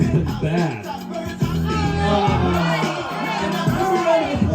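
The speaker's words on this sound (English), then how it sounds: "Alright, cheer 'em on, guys." Crowd cheering and shouting at an amateur super hot pepper eating contest at a hot sauce festival, a loud, continuous roar of voices with whoops rising and falling, with talk over it.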